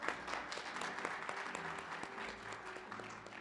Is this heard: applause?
yes